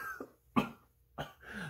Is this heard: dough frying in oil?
no